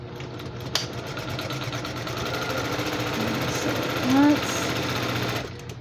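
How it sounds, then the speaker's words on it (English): A sewing machine stitches a quilted basket in one continuous close, loud mechanical hum and rapid needle chatter, a brief word spoken over it near the start. "I'm just going to flip it over and sew it again"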